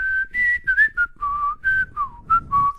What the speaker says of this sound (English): can you whistle with your nostrils?